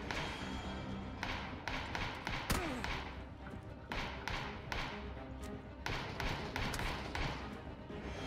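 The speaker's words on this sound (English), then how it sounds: "I hear their footsteps." Footsteps in PUBG Battlegrounds during an AI match: a run of soft, evenly spaced thuds close by, mixed with broad game ambience and a few sharper knocks.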